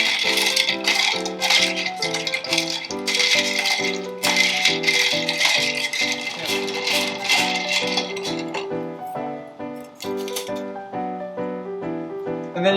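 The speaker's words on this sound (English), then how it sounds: "Give that a little stir." A cocktail with lemon juice stirred in a glass, giving a loud, continuous rattling clatter under steady background music.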